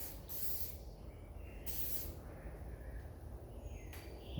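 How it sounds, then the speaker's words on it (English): 3M 5907 adhesion promoter sprayed in a light coat onto a sanded panel of a 1988 BMW E30 M3 during a refinish, heard as three short, close hissing bursts separated by quiet gaps. "just going to get a light coat of 3M 5907 adhesion promoter"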